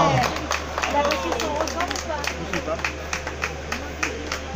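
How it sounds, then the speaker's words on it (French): A crowd applauds the winner of the Montée de la Pène 2019 race. The clapping is steady and fairly distant, and someone talks loudly over a PA system above it. "Un tonnerre d'applaudissements pour cette nouvelle victoire, une fois de plus."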